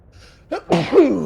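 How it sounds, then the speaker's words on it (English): A single close, loud human sneeze: a short sharp intake of breath followed by a forceful burst that trails off, with no other sound around it. "I have to sneeze."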